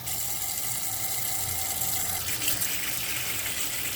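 Cold water pours steadily from a tap into a canning container during pepper jelly canning, a continuous close hiss and gush that carries on for several seconds with no talking.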